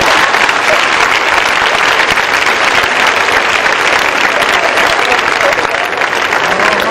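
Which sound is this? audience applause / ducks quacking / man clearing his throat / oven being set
audience applause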